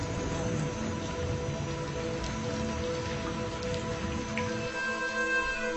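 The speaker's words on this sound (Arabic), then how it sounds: "مطر، أمطرنا." Steady rain falling and pattering on a surface, a dense continuous hiss close by with scattered drop impacts and no talking.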